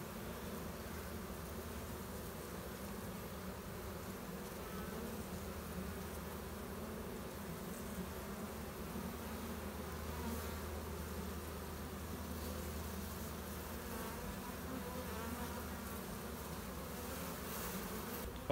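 Honey bees swarming around an opened hive give off a dense, continuous buzzing hum, fairly faint but steady throughout, with no voices over it.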